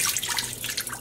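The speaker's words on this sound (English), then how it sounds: "I'm gonna pour out the liquid" Dye liquid pours from a jar into a pot holding a little clear water, a continuous splashing trickle lasting about a second.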